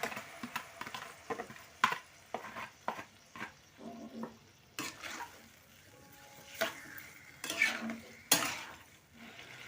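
Mango pickle with sugar syrup stirred in a pan, close clinks and scrapes of a spoon against metal in an uneven rhythm over a faint, quiet sizzle, with no talking.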